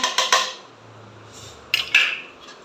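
Banana pieces drop into a metal pot of fruit salad, giving a few close clinks and scrapes of metal at the start and again near the end, with quiet gaps between.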